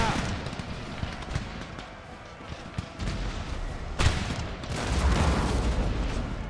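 Musket volley fire in Napoleon: Total War, a ragged burst of massed shots crackling and rolling over a loud battlefield din, with voices shouting nearby.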